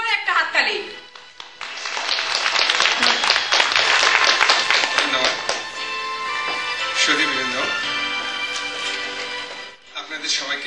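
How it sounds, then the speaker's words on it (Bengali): Concert audience at a Bengali music evening in Stockholm claps for a speaker coming to the stage, a sustained burst of applause swelling and fading over several seconds, with a voice heard at the start and end. "জোরে একটা হাততালি।"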